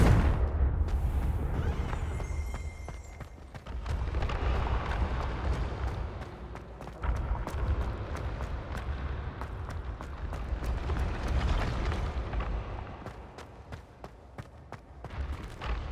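Bombarda and Confringo blasting spells in the Hogwarts video game, sounding as repeated booming explosions with crackling debris over a loud, dense rumble of game music and effects, with no talk.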